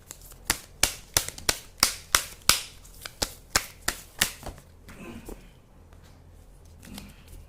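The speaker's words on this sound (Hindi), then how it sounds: "मैं ये कार्ड्स नहीं लूँगी, नेक्स्ट कार्ड निकालूंगी" Tarot cards drawn and flicked from a deck: about a dozen crisp, close snaps in quick, fairly even succession, then soft rustling and near quiet.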